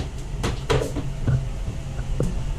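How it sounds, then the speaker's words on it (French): A plexiglass bathroom door on a Neel 51 boat swings shut with a few sharp knocks and clatters, close by and fairly loud, ending in a final latch click. "on peut fermer évidemment par une porte en plexiglas"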